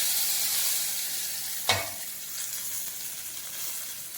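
Hot tempering poured into a pot of South Indian rasam gives a single sharp, hissing sizzle burst that quickly fades to a soft steady background hiss, alone with no talking.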